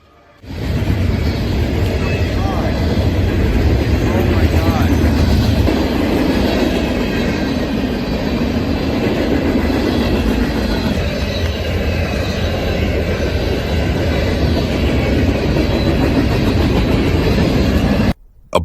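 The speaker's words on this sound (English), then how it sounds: "letting a whole truck get obliterated by a train?" A train rolls past a truck at a level crossing with steady, loud rail rumble and clickety-clack of wheels that fills the whole stretch before cutting off abruptly at the end.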